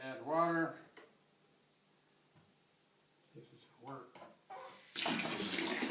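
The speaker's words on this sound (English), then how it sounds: "next, got to add water." Tap water gushing into a home-brew beer fermenter holding chilled wort, a loud steady rush that starts in the last second after someone speaks briefly.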